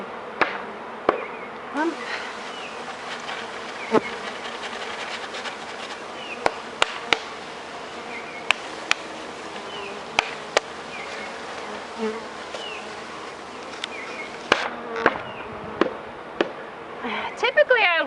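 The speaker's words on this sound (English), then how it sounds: "actually these are Italian honeybees" Italian honeybees swarm-buzz steadily while a package of bees is being hived outdoors, a continuous insect drone with someone talking over it and occasional sharp taps and knocks.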